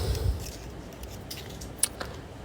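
A pair of scissors snips a necklace cord, giving a couple of small, sharp clicks close by amid faint handling noise on a quiet table.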